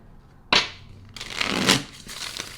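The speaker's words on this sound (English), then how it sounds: "Loving the way these cards shuffle." Tarot cards are shuffled briskly by hand, giving a sharp riffle burst followed by a longer rustling, flapping run of cards, close and clear with no talking.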